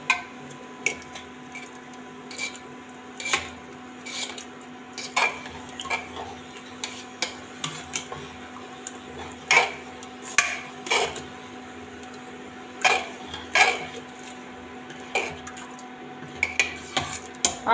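A spoon scrapes and clinks against a cooking pot as boiled potatoes are mixed into a dhaba-style black chickpea curry, with irregular close metallic knocks and scrapes repeating throughout over a steady low hum.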